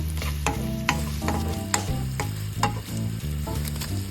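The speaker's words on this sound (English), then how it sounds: "let's heat oil in a pan. And then saute garlic and onion" Garlic and onion sauté in hot oil in a pan, a steady close sizzle with rhythmic stirring clacks of a utensil every half second or so, no voices.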